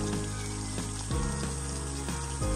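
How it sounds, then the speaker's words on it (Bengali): Chicken frying in hot oil for Murg Musallam, a steady close sizzle that runs through the whole short stretch with a few faint clinks, and no voices. "এভাবে করে আমি চারটা পাশ আমি ভেজে নেব।"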